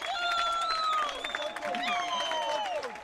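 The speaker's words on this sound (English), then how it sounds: "Lots of cheering from the sideline." Spectators on the sideline cheer and applaud at the Swiss Championship 2025 open final in ultimate frisbee, a steady crowd roar with shrill whistle-like calls rising over it for the whole stretch.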